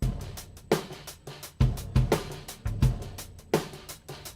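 A drum groove from the SBL Groove Trainer app: punchy kick and snare hits in a steady, syncopated pattern with ticking cymbal strokes between, clear and close with no talking.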